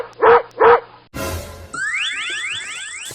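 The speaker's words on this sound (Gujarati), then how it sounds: "ઈ આપણા ગામનું ઓલું ભૂર્યું કૂતરું હતું" A brown village dog gives two quick, loud barks close by, followed by a burst of noise and then a rising, repeating electronic-sounding whine.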